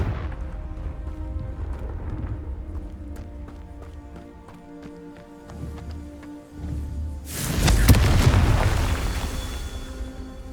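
A Confringo blasting spell goes off in Hogwarts Legacy: after quieter rhythmic thumps and footsteps, a loud burst erupts near the end and rumbles for a few seconds.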